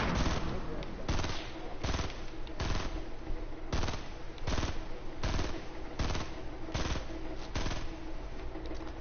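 Sniper rifle fire in the Fortnite video game rings out as loud, close shots repeating at a quick, fairly regular pace across the whole stretch, with no pause between volleys.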